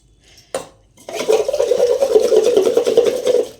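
Small metal puja items are washed in water in a vessel, a sharp clink followed by steady splashing, swishing and light metallic clatter close by.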